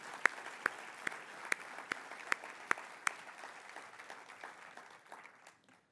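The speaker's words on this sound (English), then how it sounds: "I think we can give them another round of applause for this." Audience applause at a company summit, steady clapping with a few sharp louder claps standing out, gradually thinning and fading away toward the end.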